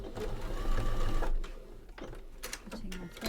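A sewing machine stitches a fabric apron at steady speed, a continuous close mechanical whir that stops partway, followed by small handling clicks and rustles.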